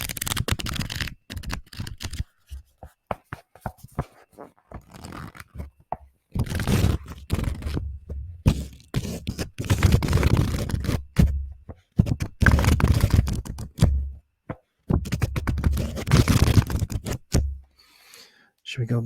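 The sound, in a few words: book pages turning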